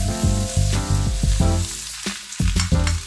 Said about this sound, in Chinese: 土豆粉翻炒